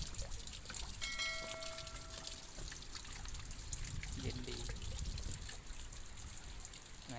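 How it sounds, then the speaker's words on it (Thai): Evening rain in Surat Thani, Thailand, runs off as trickling, splashing water in a steady, close wash that lasts throughout, while a brief voice speaks near the start. "บรรยากาศฝนตกท่านผู้ชมเอ้ย"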